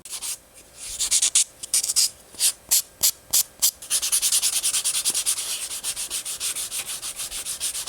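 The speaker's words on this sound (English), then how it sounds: "At this point, it's time to go back out to the sander" A power sander shapes a wooden crankbait fishing lure, first in short, loud, rhythmic bursts, then in a steady stretch of close, hissing abrasion with no talking.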